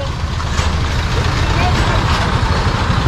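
Truck passing close by on a road, a loud broadband engine roar with deep rumbling low end that stays heavy and continuous for the whole moment.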